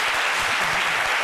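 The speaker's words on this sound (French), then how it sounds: "derrière nous, qu'on applaudit également" An audience claps and applauds loudly and densely through the whole short moment during a lunchtime show segment about a Zouglou music group, with no voices over it.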